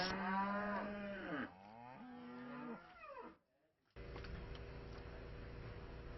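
Dairy cattle moo loudly and close by in long, drawn-out calls, one after another, before a short silence and then a steady noisy background with no further calls.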